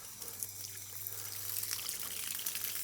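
Cold water runs steadily from a tap or hose while catfish get washed, a soft, continuous splashing rush with a low hum underneath, fairly faint and without talk.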